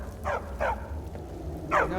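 A dog in the Skyrim video game gives three short barks, two close together and a third after a pause, over steady game background noise.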